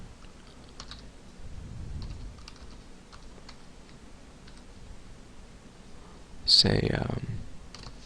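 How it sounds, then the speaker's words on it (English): Keystrokes on a computer keyboard as a name and email are entered into a web form, soft and scattered clicks with a brief spoken word, then a louder burst of noise near the end. "We're going to type in name and email"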